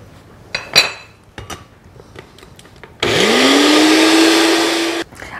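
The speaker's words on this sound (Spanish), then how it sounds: "y voy a comenzar a licuar esto" After a few clinks of utensils and dishes, a blender whirs loudly for about two seconds, its motor pitch rising as it blends a garlic clove, a quarter onion and other cold salsa ingredients, then cuts off abruptly.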